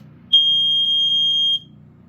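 A Montgomery Wards 84-7 smoke alarm, an older BRK 79R variant, sounds a loud, steady high-pitched electronic tone for just over a second during a test, close by, with faint room noise before and after.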